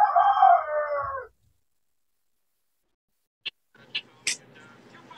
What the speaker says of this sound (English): I hear your chicken.